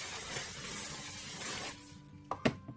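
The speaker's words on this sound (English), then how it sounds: "a A little bit more hairspray." Hairspray sprayed onto styled curly hair, a close, steady hissing spray lasting about two seconds, then a few soft taps and handling sounds.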